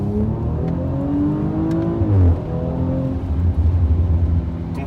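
Audi RS5 with 450 hp climbing a mountain pass, its engine droning steadily with rising and falling revs, a brief shift-like dip midway, heard loud and close from inside the car.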